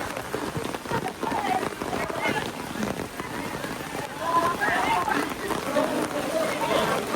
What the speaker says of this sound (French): Là, il pleut beaucoup.